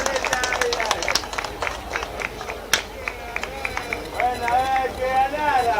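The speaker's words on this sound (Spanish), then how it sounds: "fuertes aplausos con esa picadita de Dante Majori" Crowd applause at the inauguration of a football stadium, scattered sharp claps and cheering under a loud announcer's voice, with a crowd murmuring throughout.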